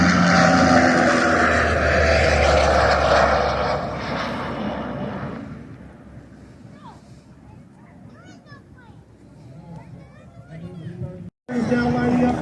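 A firefighting airplane comes in for a water drop: a loud engine roar at first that fades to a distant, quieter drone, then cuts off briefly before swelling loud again at the end.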